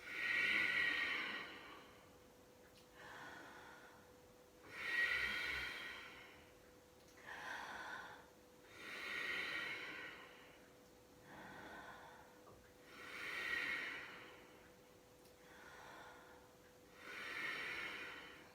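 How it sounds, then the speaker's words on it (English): Slow yoga breathing exercise, inhaling through an open mouth and exhaling through the nose, heard alone as steady breath cycles with about seven soft, rhythmic breaths over a faint steady hum, with no talk. "So we're inhaling through the open mouth, exhaling through the nose."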